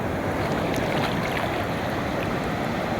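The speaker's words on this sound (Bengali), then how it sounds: "আরও একটি ঢেউ আসছে" Sea waves surge and break on the beach at Cox's Bazar, a loud, continuous rushing roar of surf under wind with no talking.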